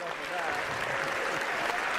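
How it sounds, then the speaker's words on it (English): Sports fans applaud themselves after a Panthers game, a steady, dense wash of clapping with a voice faintly audible within it. "give yourself a hand"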